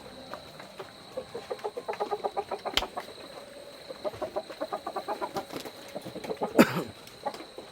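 Native country chickens cluck in a coop, a steady run of short rhythmic clucks close by with a sharp squawk near the end and a faint background hum.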